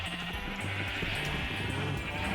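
Minecraft sheep bleating in a game world near farm pens, a few quick wavering bleats in succession, clear and close with no talk over them.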